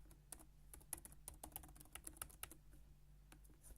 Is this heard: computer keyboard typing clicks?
yes